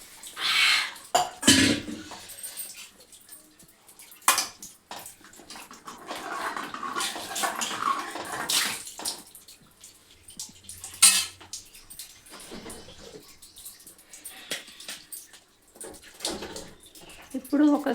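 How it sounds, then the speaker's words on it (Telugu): Water is poured into a cooking pot of Telangana-style pappu charu (lentil and tamarind stew) in a home kitchen, with intermittent splashes, clinks of pots and utensils and a cough between quieter stretches. "కొన్ని వాటర్ పోయాలి."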